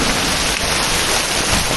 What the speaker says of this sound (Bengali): এই সিজনের সব থেকে বড় বৃষ্টি।